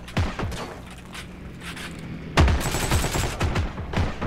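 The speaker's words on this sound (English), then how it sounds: "we're getting shot at" Bursts of rapid gunfire in the video game Heroes and Generals, a fast crackling volley near the start and a louder, denser exchange in the second half.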